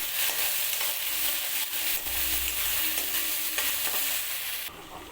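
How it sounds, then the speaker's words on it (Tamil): Ginger garlic paste sautéing over a low flame for Dindigul chicken salna: a loud, dense, continuous frying hiss with scraping stir strokes throughout, close up, then suddenly quieter near the end, no voices. "இஞ்சி பூண்டு பேஸ்ட்டு சேர்த்து நல்லா வதக்கணும்"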